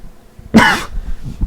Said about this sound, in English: sorry, coughing a lot